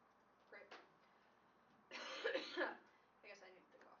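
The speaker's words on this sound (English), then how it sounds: "I guess I need to cough first." A person coughs a few times indoors, with one fuller cough in the middle between shorter throat-clearing bursts, fairly quiet and close, with no speech.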